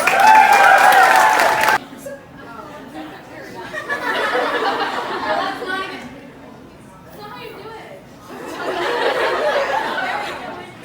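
A tour audience in Boston claps briefly and loudly at the start, then the applause breaks off into crowd chatter, laughter and talking voices that swell and fade in waves.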